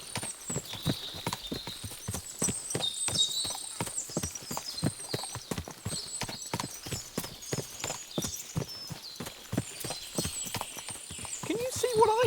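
Many horses' hooves in the game Kingdom Come: Deliverance 2 clip-clop steadily in a busy, overlapping rhythm, with an occasional whinny and voices talking in the background.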